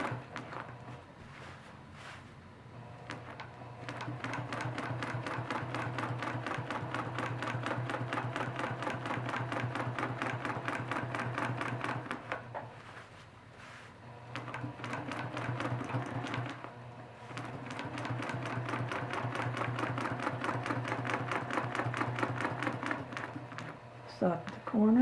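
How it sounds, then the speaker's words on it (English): A sewing machine running a straight stitch along a quilt row, a fast even mechanical clatter in two long runs separated by a brief pause near the middle, close and steady. "I'm going to stitch along the line with just a straight stitch."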